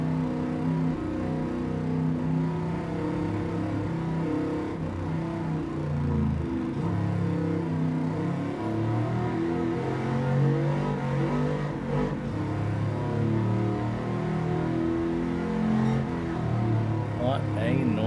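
A truck engine revs hard and steadily during a race in Gran Turismo 7, with a dense, droning engine note rising and falling and a voice talking over it throughout.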